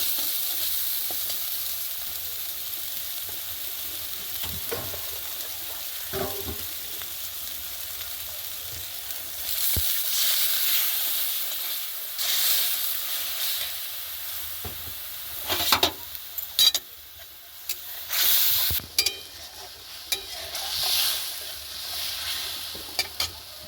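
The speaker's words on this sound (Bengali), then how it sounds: "ভালো করে কষিয়ে নেব তেলটা যখন মশলাটাকে ছেড়ে দেবে" Spice paste sizzles and fries in hot oil for an egg curry, with occasional scraping and stirring sounds; the frying swells louder at intervals, and there is no talk.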